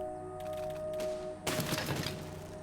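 Cannon fire in the siege-building game Besiege: a sudden loud burst of booming shots erupts midway after a quieter stretch, continuing as a dense rumbling barrage over steady background game sound.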